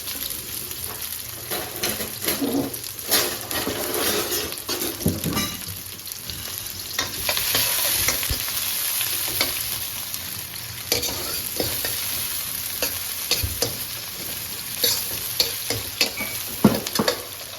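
Half a large onion frying in a pan for aloo gobi, with a steady close sizzle throughout and repeated scraping strokes of a spoon stirring it.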